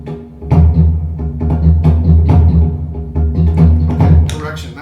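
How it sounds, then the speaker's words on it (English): A pre-recorded WaveDrum loop played back from a pedal gives a steady, busy pattern of percussive hits over a low droning tone, loud and close throughout. "That's a loop that I made with wave drum."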